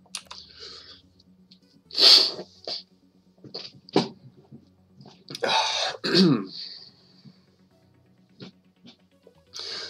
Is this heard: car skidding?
no